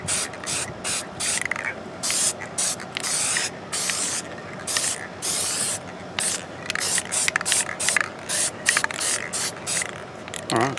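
Short bursts of spray paint hissing from an aerosol can as light coats go onto plaster casts, a dozen or so close, evenly spaced sprays with brief gaps between them.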